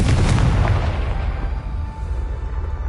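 A Confringo fire-blast spell from Hogwarts Legacy goes off as a loud, deep explosive burst at the start, then a rumbling, crackling tail that slowly fades over a few seconds.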